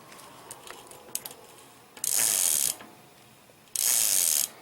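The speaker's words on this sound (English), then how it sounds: "And there goes the gear set on there. You just screw it on." A bicycle gear set being screwed by hand onto a Joytech rear hub on a Raleigh Record: two bursts of rapid, buzzing ratchet clicking, close and loud, with lighter handling clicks before them and no talking.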